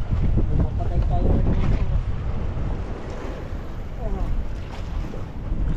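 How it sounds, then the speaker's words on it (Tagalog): Big ocean waves surge around a small outrigger boat, the rush of water mixing with heavy wind buffeting the microphone, loud and continuous, with people talking now and then. "Lalaki ng alon, yung mga idol oh."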